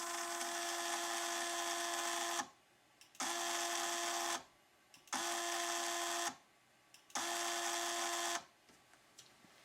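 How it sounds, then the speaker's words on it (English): Small DC motor on a DRV8800 driver board whirs in four high-pitched bursts of about two seconds each, each one cutting off abruptly under slow-decay braking with short quiet gaps between; quiet and close, no talking. "It is actually easier to hear that the slow decay is breaking the motor very fast."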